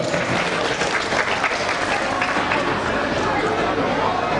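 A school audience claps for a student at an international school's closing ceremony, with dense, continuous applause and crowd chatter throughout.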